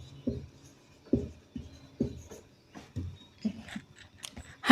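Pen strokes scratch across paper or a board in short, regular bursts, close and quiet, with soft pauses between each stroke.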